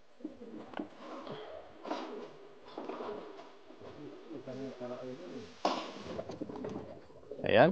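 Pigeons in a loft, a flock of about 35, give soft, repeated throaty coos close by, overlapping in low rolling phrases with brief rustles between them.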